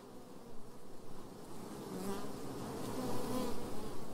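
Honey bees buzzing steadily around beehives at a Greek Orthodox monastery, a dense continuous hum of many insects that swells slightly louder toward the end, with no talk.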